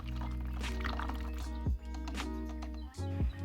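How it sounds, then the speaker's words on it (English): Plaster is poured into a mold case, making a liquid trickling and gurgling stream with a couple of brief clinks or knocks along the way, close by and quiet, with no speech. "And then I pour the plaster into the mold case."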